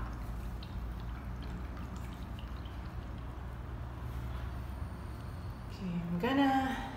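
An acrylic paintbrush is swished and rinsed in a water pot, a soft watery swirl that rises into a brief louder slosh near the end over a low background hum.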